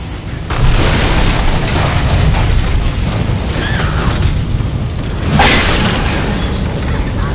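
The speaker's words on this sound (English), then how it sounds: "Pipe bomb." A pipe bomb explodes in Left 4 Dead 2 with a loud, heavy boom, then a long rumbling roar and a second blast burst a few seconds later, all up close and with no talking.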